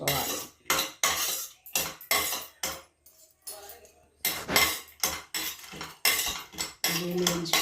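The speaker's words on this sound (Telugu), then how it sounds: "పల్లీలు వేయించేస్తాను" Peanuts tossed and stirred in a pan, with close, rapid clinks and scrapes of a utensil against metal in short bursts and brief pauses, and no talking.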